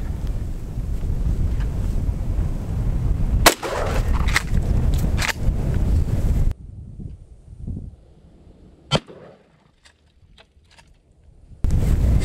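Maverick 88 pump shotgun firing double-aught buckshot outdoors: a sharp loud blast over wind noise, then a quieter stretch with a second sharp report and small clicks.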